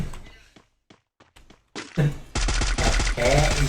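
Bursts of AR rifle fire in the Free Fire battle royale game start after sparse quiet thuds, then run as loud, dense rapid volleys, close and sustained, with a voice talking briefly under them.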